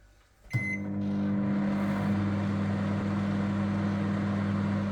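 A microwave oven heating a packaged ready-meal of stew and dumplings: a click at the start, then a steady, close, low electrical hum and fan drone that continues unbroken, with no talking.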